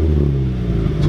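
A car engine with an M2 Motorsport exhaust revs hard during a launch control test and holds at a steady, throaty high idle, loud and close with a rumbling exhaust, no voices.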